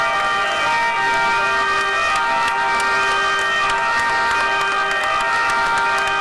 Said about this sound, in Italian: Le sirene dei mezzi di soccorso salutano la statua della Madonna in piazza Garibaldi